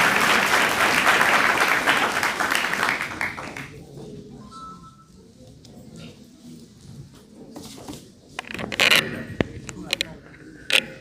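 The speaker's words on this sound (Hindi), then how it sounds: "डॉक्टर संजय पंकज के लिए जोरदार तालियां।" Loud applause from an audience greets Dr. Sanjay Pankaj at a Swami Dayanand Saraswati Jayanti ceremony in a teacher-training college hall in Masaurhi. Dense clapping fills the first few seconds, then thins out, followed by scattered creaks and knocks.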